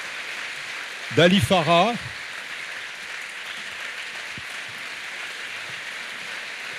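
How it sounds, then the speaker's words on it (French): Soft, steady applause and clapping from an audience at a travel sketchbook festival event, spread evenly like light rain, with a short burst of a person speaking over it near the start. "Je vous demande de les applaudir."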